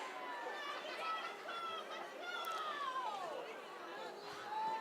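Spectator yelling from the crowd at a high school football playoff game, a distant raised voice rising above a steady murmur of crowd chatter across the whole stretch.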